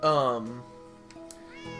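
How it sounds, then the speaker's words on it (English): A pet cat named Clunk lets out a single clear, close meow with a falling pitch, followed by a quieter second mew and faint room noise. "Here's my cat, Clunk."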